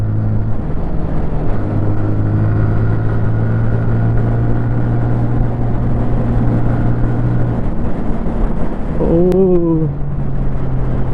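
A 2024 TVS Apache RTR 180 2V motorcycle revs and pulls through its gears. The engine drone rises in pitch step by step and then jumps sharply near the end, with steady wind rush throughout and no speech.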